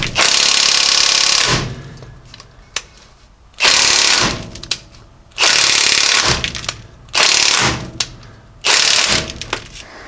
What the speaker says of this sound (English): So I've just got my impact right here, and we're going to see if we can knock these free.